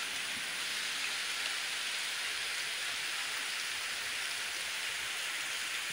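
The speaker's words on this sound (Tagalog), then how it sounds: "Inabot na tayo ng ulan." Steady rain falling outdoors near cattle and leafy shelter, a constant even hiss of drops on the surface with no breaks or voices.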